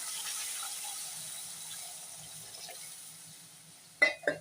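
Water runs steadily into a pot for cooking rice puttu upma, with a soft, even hiss, ending in a couple of sharp metallic clanks.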